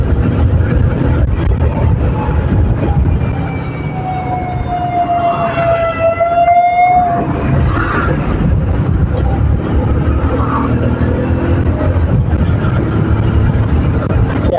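An ambulance siren wails on a busy road, its rising and falling tone sweeping over continuous engine and traffic rumble, loud and close for a few seconds mid-clip before the road noise carries on.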